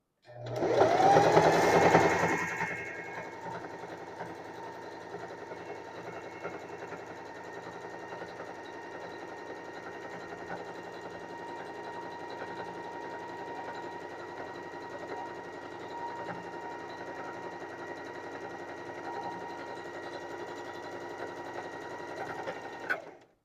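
A sewing machine stitching a simple throw pillow, starting with a brief louder burst before settling into a steady, continuous mechanical whir that runs close by for over twenty seconds, with no talking.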